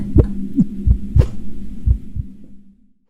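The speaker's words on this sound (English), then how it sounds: "this loud heartbeat sound effect" Loud heartbeat sound effect from a horror game version of Papa's Pizzeria: deep paired thumps repeat in a steady rhythm over a low hum, then fade out toward the end.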